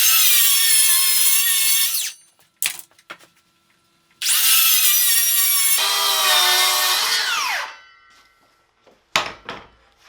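A DeWalt 60-volt worm-drive cordless circular saw cuts through wood in two loud, close bursts. Each cut is a high whining bite with a spin-down, separated by short clunks and near silence.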